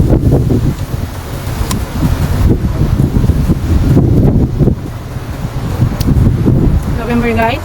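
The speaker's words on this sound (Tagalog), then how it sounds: "Ang lakas ng hangin." Strong wind buffets the microphone outdoors in a continuous loud roar with gusty surges, and a person speaks briefly over it near the end.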